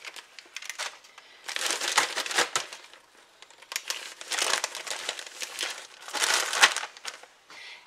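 Ritz crackers crinkle and rustle inside a plastic gallon bag, heard close up in irregular bursts of crackling plastic separated by short quiet gaps.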